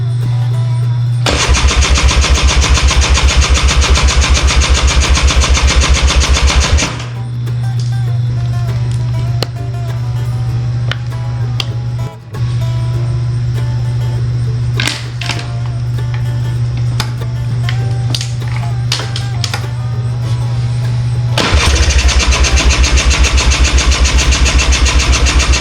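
A Polaris Scrambler ATV with a carburetor not getting fuel and no spark cranks in two long, loud bursts at the start and end, with a steady mechanical hum running between them.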